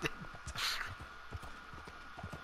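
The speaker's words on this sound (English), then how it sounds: "my horse is plowing through people" A horse gallops in the video game Red Dead Online, a quick, fairly quiet run of hoof clops in a steady rhythm under faint background hum.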